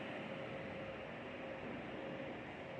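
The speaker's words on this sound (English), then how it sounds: "That's where they're all waiting for the train." A Caltrain sits at a station platform where passengers wait, its steady rumbling drone and faint tonal hum continuing evenly without any talking.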